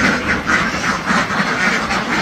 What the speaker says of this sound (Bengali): এই যে চেপার মধ্যে কিন্তু অনেক হাঁস আছে